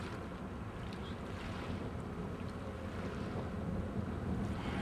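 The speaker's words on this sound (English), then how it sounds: "the peaks are hitting the bulkhead about a second apart" Water waves slapping against a boat's bulkhead at roughly one-second intervals, heard as a steady, dense wash of water and wind noise with no talk.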